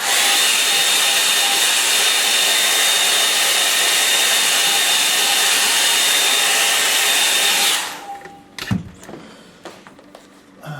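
A hair dryer blows a loud, steady whooshing hiss across wet paint on a landscape painting for about eight seconds, then cuts off abruptly, leaving a near-silent room with a few small knocks and handling sounds.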